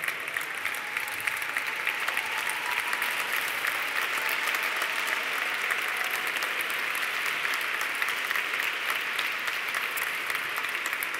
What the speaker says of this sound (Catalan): Un aplaudiment ben fort per tots els graduats del 2020.